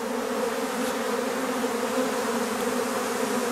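Honeybees from a freshly swarmed colony hum in a thick, unbroken drone, close and fairly loud throughout, with no talking.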